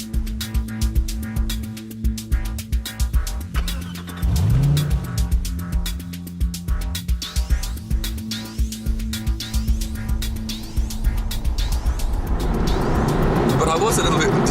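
A 4.3 litre V8 car engine burbles and revs on an open road, a rhythmic low exhaust note rising and falling with gear changes, getting louder and rougher toward the end; someone talks over parts of it.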